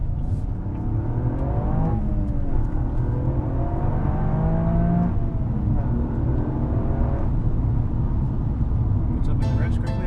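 A 2020 Toyota GR Yaris engine revs up repeatedly, its pitch climbing in several sweeps as it accelerates, loud and close, with someone talking briefly near the end.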